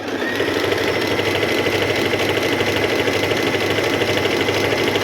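Singer M3505 portable tabletop sewing machine running a strong stitch, a steady fast mechanical whir with rapid needle chatter held at constant speed, loud and close with no talk.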